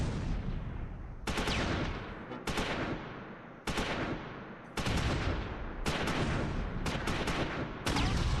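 Gunfire and rifle-grenade explosions from the World War II strategy game Close Combat IV, a series of loud blasts roughly once a second, each with a long decaying rumble that overlaps the next.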